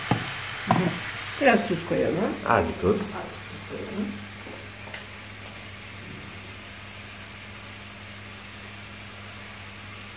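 Jerusalem artichokes, potatoes, carrots and onions sizzle quietly and steadily in a pot while someone talks over the first few seconds and stirring noises come and go.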